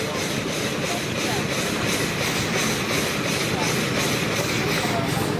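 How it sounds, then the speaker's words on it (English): An engine working harder under load at a farm show runs as a steady, loud, continuous drone with a mechanical clatter throughout, close by, with no pauses. "The engine's working a little harder now."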